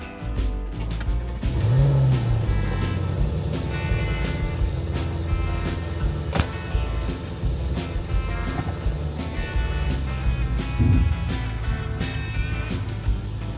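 A Mercedes SLK55 AMG driving off, its engine rising in a steady, loud acceleration with a deep rumble that swells near the start and again toward the end, heard close up without talk.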